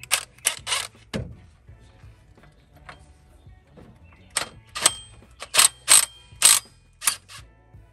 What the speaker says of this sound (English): take this out with the regular ratchets